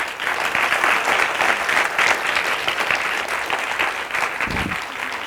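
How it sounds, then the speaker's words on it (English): Loud, dense clapping from the audience at an International Dance Day celebration with people with disabilities, steady throughout with a brief low thump near the end. "अब बजाए ताली।"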